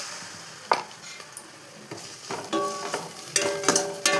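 Vegetables sautéing in a pan as a spoon stirs them, a steady soft sizzle broken by close scraping and clinking strokes that grow busier toward the end, no voices.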